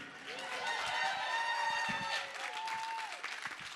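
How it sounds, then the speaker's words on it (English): A live music event crowd applauds a trio after their set, with steady clapping mixed with rising whoops and cheers at moderate distance. "Can we have another round of applause for these three?"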